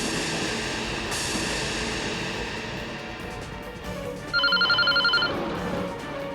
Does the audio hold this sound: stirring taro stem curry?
no